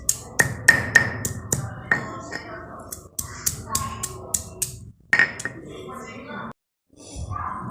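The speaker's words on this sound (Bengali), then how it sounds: "এবার শিলনোড়ায় এইভাবে থেঁতো করছি।" Banana stem pieces crushed on a stone grinding slab with a stone pestle, giving a run of sharp, close knocks and grinding scrapes in an uneven rhythm, then a brief silence before a low rumble.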